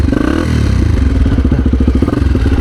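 A 1996 Honda XR250 dirt bike, not fully warmed up, runs close by with a loud, rapid, pulsing thump and mechanical clatter that stays steady throughout, with no talk.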